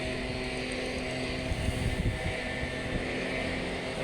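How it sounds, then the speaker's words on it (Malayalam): Engine of a small tractor-like grass-clearing vehicle on a roadside in the UK, a steady mid-distance drone with faint wind, holding an even level throughout. "ട്രാക്ടർ പോലെയുള്ള ചെറിയ വണ്ടിയുണ്ട്"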